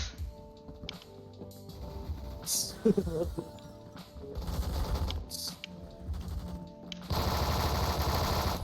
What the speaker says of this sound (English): The fire rate's pretty good, but it sounds like the gun's thrashing metal inside